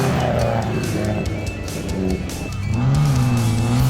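A racing buggy with a 2-litre engine sets off at a race meeting, its engine loud and close, revving hard and rising in pitch as it accelerates away, with tyre noise under the roar.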